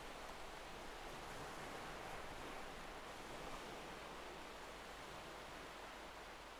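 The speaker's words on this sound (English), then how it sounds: "Soft waves crash gently against the steady shore, forever flowing back out to the vastness from which they came." Soft ocean waves wash against a beach shore as a faint, steady hiss of surf, with no distinct surges breaking through the continuous wash.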